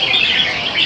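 Crested birds with crowns, kept in a cage, chirp in a dense, high, continuous twitter, close and fairly loud, with no talk.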